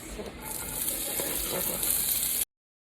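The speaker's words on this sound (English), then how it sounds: "A couple tablespoons of olive oil, and I'm going to cook these onions." Diced onions fry in a couple of tablespoons of olive oil. A steady, close sizzle lasts about two and a half seconds and then cuts off.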